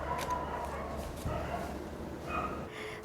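Several dogs bark and yelp in the distance, chasing off a stray dog that wandered into a residential society, their calls faint under steady outdoor background noise.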